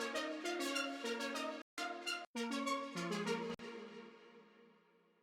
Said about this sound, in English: This is the cute little ARP in the background.